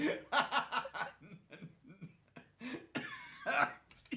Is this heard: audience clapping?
no